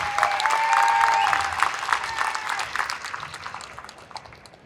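An event audience gives a round of applause for Amy Baker, owner of Threadbare: dense, steady clapping that swells early and then gradually thins and fades over several seconds, with a few high whistle-like tones near the start.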